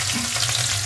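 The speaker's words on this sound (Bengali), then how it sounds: "এবার রসুনটা রসুন দিচ্ছে" Garlic sizzles in hot oil in a wok with cumin seeds and dried red chilli, a steady close frying hiss throughout a brief moment with no talk.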